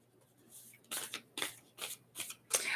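A deck of Rider-Waite tarot cards is shuffled by hand in several quick riffling bursts, soft and close in an otherwise quiet room.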